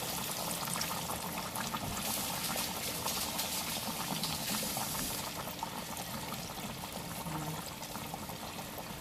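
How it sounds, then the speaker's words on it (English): Two large chicken breasts frying in hot oil for a copycat chicken sandwich, a dense, steady crackling sizzle that fills the whole stretch without pause and with no talk over it. "go ahead and start frying"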